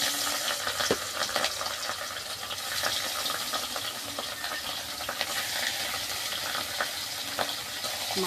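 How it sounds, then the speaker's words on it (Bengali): Fish frying in oil in a kadai in a home kitchen, a continuous loud sizzle with scattered pops and light stirring clicks throughout, no talking. "মাছগুলো আমি ভেজে নিচ্ছি।"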